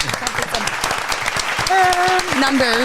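A canned applause effect plays as a brief patter of claps while someone talks over it throughout, his voice sitting in front of the thin clapping.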